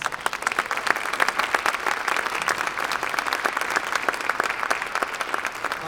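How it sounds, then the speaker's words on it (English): An audience at a junior jazz ensemble concert claps steadily for several seconds, a dense, even wash of many hands with sharp individual claps standing out. "Can we give our support people a round of applause?"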